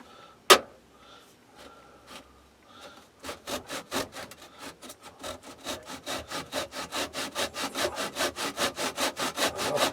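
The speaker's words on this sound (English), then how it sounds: "put it in the vise. We'll get the pull saw." A pull saw cutting scrap wood clamped in a vise: after a sharp knock and a few tentative strokes, a steady rhythmic rasp of repeated strokes builds, close and loud, with no talking.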